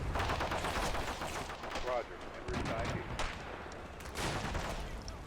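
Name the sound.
gunfire in a video game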